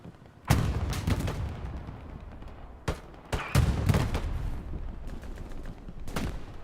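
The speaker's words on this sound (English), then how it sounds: "Panzer IV exchanges one more shot." Heavy booming shots and crackling gunfire ring out in the video game Hell Let Loose on Utah Beach, a Panzer IV tank gun among them, several sharp reports spaced over a few seconds with rumbling tails, no talking.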